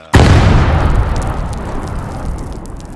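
A single sudden loud blast in a video game battle scenario, with a sharp onset followed by a long rumbling decay that fades over several seconds.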